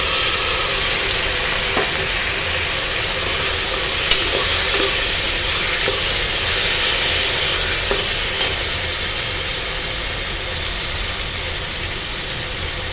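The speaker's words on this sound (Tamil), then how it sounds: "வெங்காயம் நல்லா வணங்கிடுச்சு அடுத்து வந்து தக்காளி ஆட் பண்ணிக்கிறோம்" Small onions and tomatoes frying in a pan for a Kongu-style rice and lentil dish. A continuous close sizzle is broken now and then by the scrape and clink of stirring.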